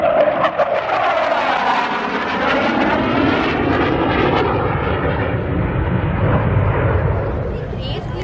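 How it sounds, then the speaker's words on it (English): A Denel Cheetah C jet accelerating at an air show, a loud, continuous roaring engine rush with a shifting whine that sweeps across as it passes, with an announcer's voice over it. "Aircraft accelerating now through"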